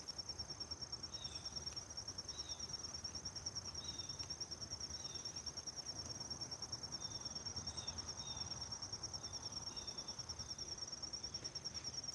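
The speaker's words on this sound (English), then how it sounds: "Yep, we do have crickets. They are loud this time of year in the fall." Big black field crickets chirp in a fast, steady pulsing rhythm in fall, a continuous high trill over quiet night background with a few faint bird calls.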